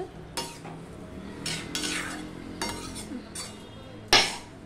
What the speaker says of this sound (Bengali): এবার সম্পূর্ণটা মিশিয়ে দিচ্ছি, দেখতেই পাচ্ছ।